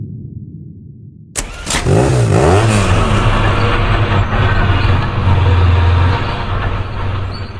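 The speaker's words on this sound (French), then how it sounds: "Les moteurs rugissent, la turbine commence à mordre le socle terrestre" Engines of a deep drilling rig built to grind through granit and hard rock roar to life with a sharp start, then hold a loud, steady rumbling drone throughout.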